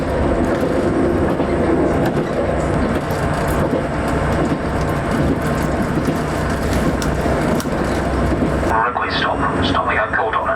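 Interior of a train running on a Scottish railway approaching Scotscalder, a steady loud rumble and rolling noise throughout, with a shift in tone near the end as the carriage sound changes.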